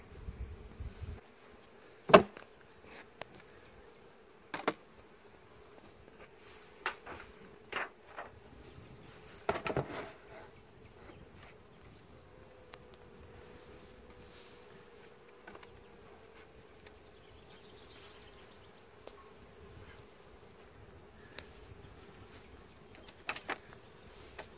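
Honey bees hum faintly and steadily around an open hive during a colony check, with occasional knocks and handling clatter of hive equipment nearby.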